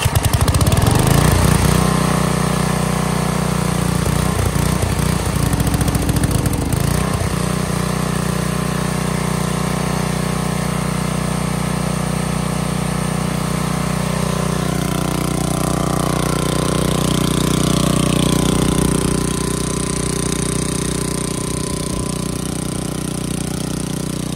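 An auction car's engine runs loud and close for the whole stretch, a rough steady drone with some uneven surging and a low rumbling idle.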